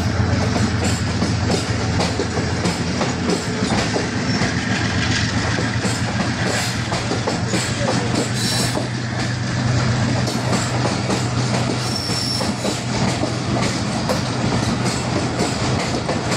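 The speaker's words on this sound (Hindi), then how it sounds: "कराची से कोटा जाने के लिए बोलान एक्सप्रेस, ये क्रॉसिंग हो गई।" The Bolan Express passenger train passes a crossing, wheels clattering over rail joints in a continuous rolling rhythm with engine rumble, sustained and fairly close for the whole stretch.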